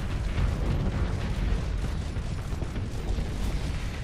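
A torpedo strikes in the space combat game Starsector, a rumbling, roaring burst that stays steady and moderately loud for a few seconds, with no voices over it.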